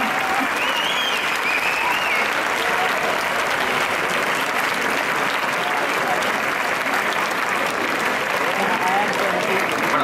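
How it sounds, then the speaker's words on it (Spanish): A concert audience of young txistulari performers' supporters claps loudly and continuously, a dense sustained wall of applause with no break. "Otro aplauso por ahí."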